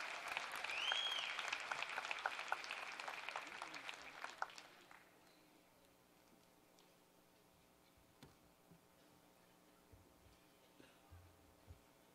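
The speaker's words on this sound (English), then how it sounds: "Would you please give him a nice round of applause?" A commencement crowd claps for the mayor. The applause is loud for about four seconds, then fades to scattered claps and a quiet room hum.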